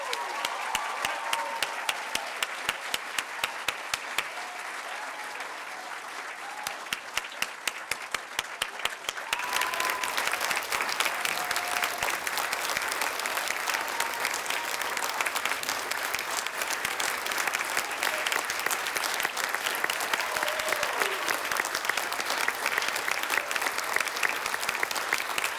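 Sustained, dense applause from a large audience at a senior school closing ceremony, continuous and even throughout with no talking over it.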